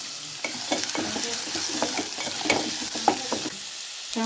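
Curry leaves and onion hit hot oil for a fish curry with raw mango, crackling and sizzling steadily up close while a spoon stirs through them in short scrapes.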